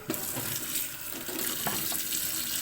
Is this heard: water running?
yes